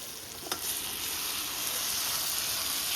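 Goat meat (mutton) dropping into a hot pan with tomato, a sharp hit followed by a loud, steady close-up sizzle that holds and slightly intensifies, no voices.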